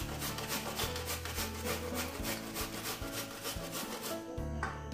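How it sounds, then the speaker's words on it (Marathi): Tender bamboo shoots being grated by hand on a coarse grater for a vegetable dish: quiet, repeated rasping strokes in a steady back-and-forth rhythm, close up and with no talking. "त्यानंतर हे कोंब किसणीने किसून घेऊया।"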